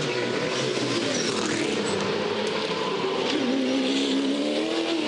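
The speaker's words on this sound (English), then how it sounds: "Big wheel spin there out of turn 2" A V8 Supercar in 2011 final practice spins its wheels out of turn 2, a loud, steady engine roar with a rising whine, continuous and close, with no talking.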